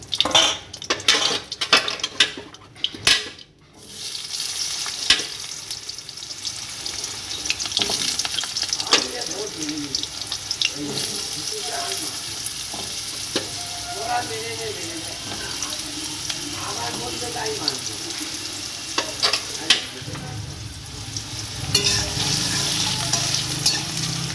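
Steady crackling sizzle of potatoes frying in hot oil left from frying eggs, with occasional stirring clatter of a utensil against the pan; sharp knocks near the start.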